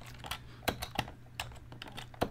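Keys clack on a Color Computer keyboard in short uneven bursts, a handful of crisp close taps with brief pauses between them, alone over a faint low hum.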